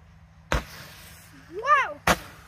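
Homemade firework mortar shots outdoors, two sharp loud bangs about a second and a half apart, with a voice heard between them.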